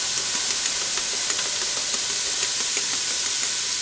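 Vegetable egg drop soup simmering in a pot gives a steady, close hiss and faint sizzle that runs unbroken with no talk, broken only by small bubbling ticks.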